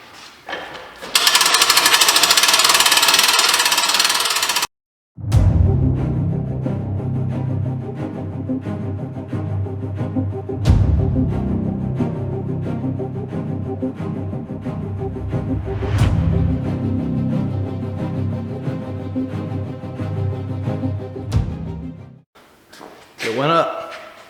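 Winch hoisting a container found at auction, all four corners rising together, a loud droning mechanical grind with sharp clicks at intervals, preceded by a burst of hiss and stopping near the end.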